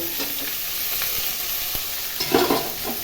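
Potatoes with chopped onion and tomato frying in a wok with little oil, a steady close sizzle with a few stirring scrapes.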